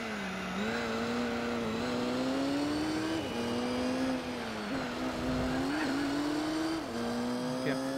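A race car engine screams at full throttle in Gran Turismo 4 during an American championship race, a steady, loud, rising whine that dips briefly at gear changes and climbs again, with a voice talking over it.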